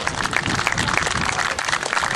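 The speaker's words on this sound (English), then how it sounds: "Can we have a big round of applause, please?" An audience at a musket drill display claps steadily and fairly loudly for a couple of seconds, a dense patter of many hands with no voices standing out.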